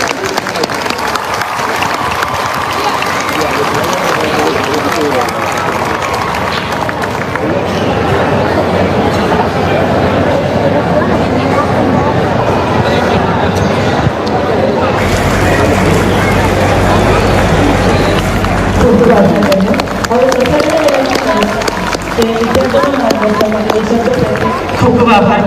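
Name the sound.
audience applause welcoming guests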